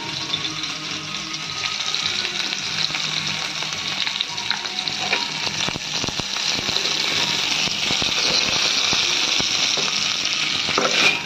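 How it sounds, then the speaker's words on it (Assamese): Pointed gourd frying in a pan with salt and turmeric, a steady, close hiss of sizzling oil with occasional stirring scrapes throughout. "নিমখ আৰু হালধিৰে বৰ ধুনীয়াকৈ এইখিনি অকণমান ভাজি লগাই ল'ম"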